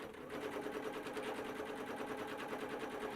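A sewing machine stitches in one continuous run, its fast, steady mechanical chatter close and fairly quiet.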